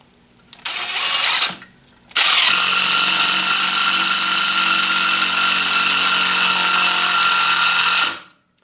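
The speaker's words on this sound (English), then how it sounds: "Now we're going to bump it up to speed 2, which is 700 inch-pounds, and drive another screw in." A Milwaukee M18 FUEL 2653-22 impact driver at speed 2 drives a screw: a short burst, a pause, then a long steady loud hammering whir lasting about six seconds before it stops.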